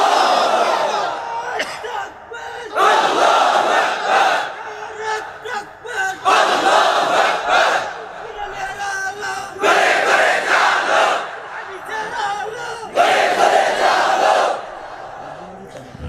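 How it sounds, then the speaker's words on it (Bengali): A large crowd at an Islamic religious sermon gathering loudly chanting the takbir "Allahu Akbar" in four or five swelling unison shouts, with a preacher's voice in the pauses between chants. "একটু জোরে বলেন তো আল্লাহু আকবার"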